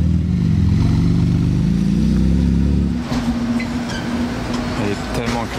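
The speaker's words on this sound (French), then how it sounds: "Le vrombissement d'une GT2 RS est très reconnaissable." A Porsche GT2 RS passes in a Monaco street, its engine roaring loudly for a few seconds, then fading into street noise and some clattering.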